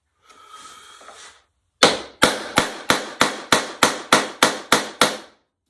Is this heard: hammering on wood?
yes